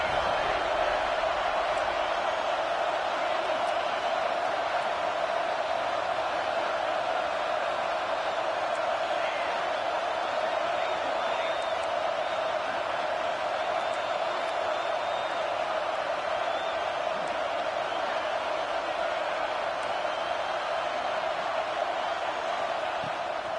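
Stadium crowd roar in a college football video game during a third-down red-zone play, a dense continuous wall of loud cheering and whooping with no breaks.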